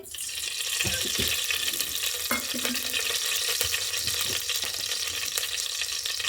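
Oil heats in a pan for tempering a spiced Kannada-style dish, producing a continuous close sizzle with occasional stirring scrapes and faint watery hiss, and no voices.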